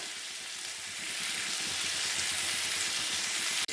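Pointed gourd pieces fry in oil with turmeric and salt, a steady close sizzling crackle that swells a little after the first second and continues without talk.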